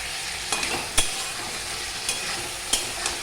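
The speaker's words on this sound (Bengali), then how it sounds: "ভালো করে কষানো হয়ে গেল" Spices sautéed in a pan, stirred with a spatula that scrapes and knocks against the metal several times over a soft continuous sizzle, close and fairly quiet, with no talking.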